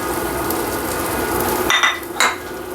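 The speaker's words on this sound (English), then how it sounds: "It's going to hit the pan, start sizzling pretty much immediately." Beef osso buco in a hot pan gives a broad, steady sizzle, broken near the end by a couple of sharp metallic clinks of utensils against the pan.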